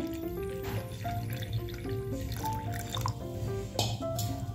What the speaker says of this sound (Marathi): आता याच्यामध्ये आपण स्वच्छ पाणी टाकून द्यायचं आहे